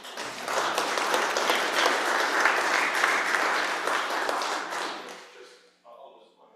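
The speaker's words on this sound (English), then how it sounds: "Can we give ourselves a round of applause?" Congregation applauding at a church congregational meeting, a full room of clapping that swells, holds, then tapers off as talk resumes at the end.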